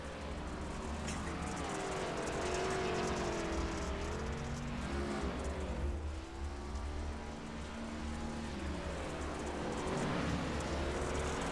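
Race cars on the Eldora dirt track during an ARCA Series round: a steady, loud roar of several engines with rising and falling pitch as cars sweep past, continuous throughout with no talk.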